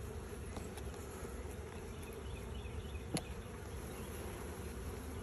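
Honey bees buzz softly around an opened nuc hive during a beekeeping check, a faint continuous drone with the occasional closer bee passing by and a brief click.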